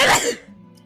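A single sharp sneeze burst, close and loud, that quickly trails off into quiet.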